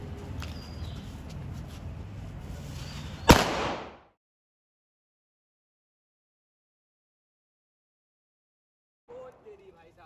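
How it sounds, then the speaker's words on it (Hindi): During Holi celebrations, the last firecracker goes off in one sharp, loud bang over faint background noise, followed by near silence and a few soft sounds at the end. "ये मेरे पास लास्ट वाला बचा हुआ था पटाखा जलाने वाला।"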